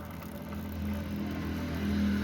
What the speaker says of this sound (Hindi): पहिया चला के इसकी ऑयलिंग कर देना है